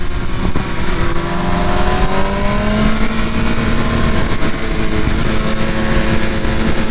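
A 2023 BMW S1000RR with a flash-tuned ECU races a BMW M1000 motorcycle, their engines forming a loud, continuous high-revving drone whose pitch climbs steadily through the run.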